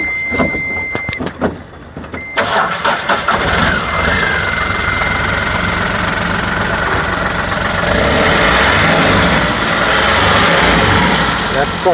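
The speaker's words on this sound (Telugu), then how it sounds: "ఒక్కసారి స్టార్ట్ చేసి చూపిస్తాం చూడండి మీరు కూడా" A 2021 Ashok Leyland Dost+ light truck's diesel engine cranks and catches after a couple of seconds, then settles into a steady, loud idle with a slight rise near the end.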